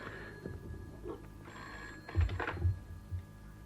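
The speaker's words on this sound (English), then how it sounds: "It's the phone." A telephone bell rings in a quiet room, two short bursts of ringing with faint background activity and no talk.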